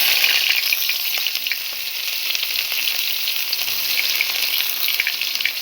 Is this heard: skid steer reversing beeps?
no